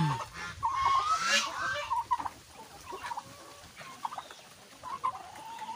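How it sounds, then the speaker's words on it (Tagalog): Brown Dekalb chickens clucking and calling in scattered bursts, one louder squawk early on, with quieter clucks continuing throughout. "Dami ng mga manok, guys."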